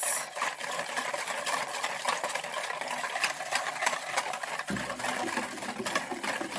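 Chocolate muffin batter with sugar is stirred steadily, a close, continuous whirring and scraping texture that holds without pause throughout.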